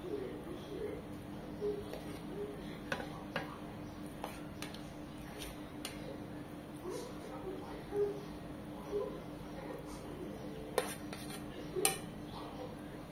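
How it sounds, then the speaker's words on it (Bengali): Leftover pulao rice is spooned on top in a pot, giving quiet, scattered clinks and scrapes of a spoon against metal at irregular intervals, faint and close, with low background noise and no clear talking. "বাকি যে পোলাওটা ছিল সেটা দিয়ে দিচ্ছি এর উপরে।"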